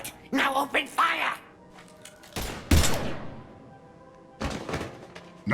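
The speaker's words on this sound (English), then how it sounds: "Now open fire!" Bursts of weapon fire in the Mass Effect 3 Legendary Edition game: a sharp volley near the middle, then another burst near the end, with speech heard earlier between short clipped sounds.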